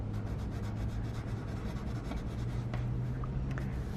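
Scissors cutting through paper while shaping a long envelope model, a steady close rasping and rubbing texture running throughout with a few sharper snips near the end.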